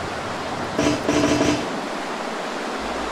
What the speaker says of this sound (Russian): Все слишком ветрено.